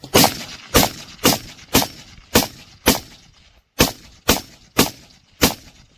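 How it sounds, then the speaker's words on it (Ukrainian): Ten gunshots fired one after another at an FPV drone in flight, sharp and loud, spaced about half a second apart with a brief pause before the final few. "Десять пострілів, дрон літає"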